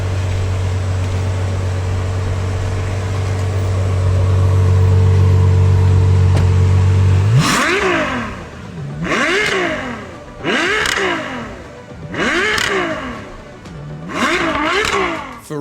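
A Ferrari 12Cilindri V12 engine idles with a steady low drone, then bursts into a series of loud, sharp revs, about five rising and falling blips in quick succession, close by with no talk.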